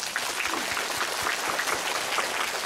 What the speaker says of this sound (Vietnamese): Chúng ta chúc mừng các em bằng một tràng pháo tay.